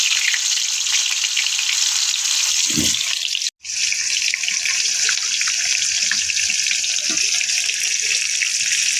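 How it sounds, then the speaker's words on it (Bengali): Potatoes fry in a hot pan with a steady, loud sizzle throughout, broken by a short gap and a faint clatter near the start. "এবার আলুটা প্রথমে ভেজে নেবো"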